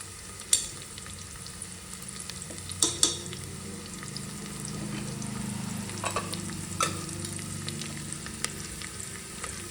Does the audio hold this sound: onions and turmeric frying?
yes